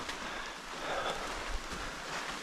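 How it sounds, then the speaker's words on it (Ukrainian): Steady rain in a dense Beskids mountain forest, growing heavier on the climb, gives a continuous close hiss of drops on leaves that swells slightly midway, with no voices. "Чим вище вгору піднімаємось, друзі, тим сильніше дощик."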